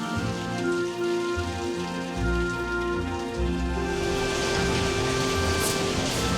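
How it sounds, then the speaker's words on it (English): Water drips and splashes steadily inside a long British canal tunnel as a narrowboat passes through, a dense, continuous wash of drops over a low boat engine hum, with no one talking. "with just the sound of dripping water and wood grinding on stone"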